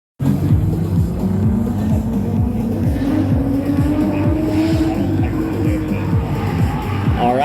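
Drift cars, including a stock power G37, race at a Drift Indy top 32 event. Engines roar loud and continuous with a rising rev, and a rapid engine chatter runs beneath.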